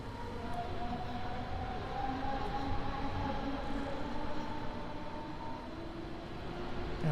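A train in the Train Sim game pulls away from Essen station on the Rhine-Ruhr main line, giving a steady, loud rolling rumble with a faint whining tone above it that holds throughout.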